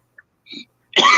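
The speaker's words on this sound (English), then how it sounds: "The coughing that you hear does not reflect the views and opinions." A short, loud cough burst closes the moment, arriving after a faint throat noise and a brief muffled sound in an otherwise quiet stretch.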